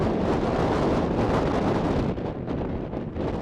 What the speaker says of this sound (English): So it's so windy here because I'm in that V-shaped gap between the peaks, and it just funnels the wind right through it